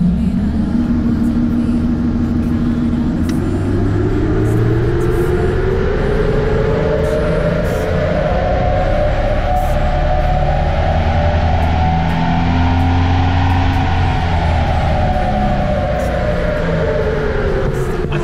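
A car engine on a dyno during a petrol run, revving loud and steady for the whole stretch, its pitch climbing slowly through a long pull and easing off near the end, with no voices over it.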